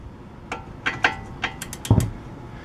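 A torque wrench on a 2019 Chevy Trax bolt gives a few sharp, light mechanical clicks spread over about two seconds, with a heavier clunk near the end, close up and alone.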